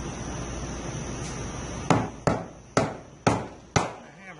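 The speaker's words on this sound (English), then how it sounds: "A hammer." Five sharp, evenly spaced hammer strikes ring out close by on metal parts of a Dodge 5.9 diesel fuel system being flushed, following a stretch of low workshop background noise.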